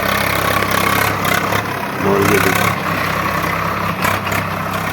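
A tractor brought out for ploughing fields in rural India idles with a steady, loud, low rumble throughout, and someone speaks briefly over it.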